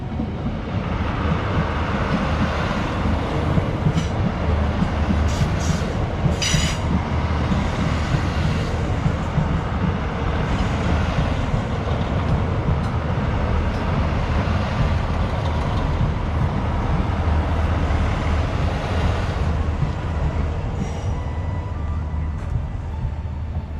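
A big train passes near a campsite at Castlerock, County Londonderry, making a continuous loud rumbling roar that holds steady for over twenty seconds, with faint higher squeals mixed in.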